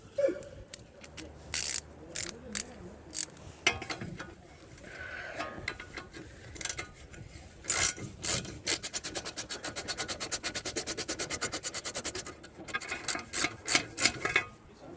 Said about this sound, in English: take a 17mm and take this castle nut off